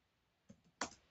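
Two quick keystrokes on a computer keyboard while entering a Linux network command, soft close clicks, the second sharper and louder, in a quiet room.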